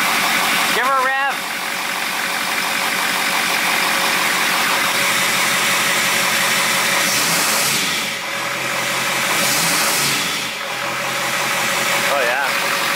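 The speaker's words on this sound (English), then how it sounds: "Give her a rev." A station wagon with a swapped-in 5.3 LS4 V8 idles steadily, then is revved in two swelling bursts, under ongoing talk and exclamations from people standing nearby.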